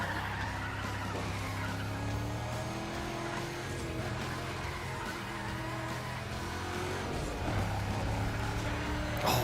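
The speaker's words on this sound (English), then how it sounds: "Oh, this engine sounds so good." A racing car engine in Need for Speed ProStreet drones steadily and loudly throughout, with faint tire noise and no talking.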